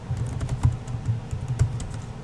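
Computer keyboard typed on a Linux Mint machine, a quick run of soft, close key clicks with a few heavier strokes, without talk.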